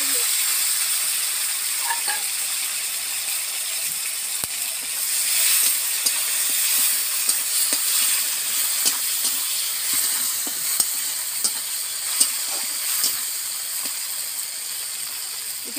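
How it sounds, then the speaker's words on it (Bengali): Cumin seeds, onion and tomato frying together in a pan for a rohu fish curry with pointed gourd, giving a steady sizzling hiss throughout with small crackles and pops, close and alone with no talking. "এটা ভাজা হচ্ছে,"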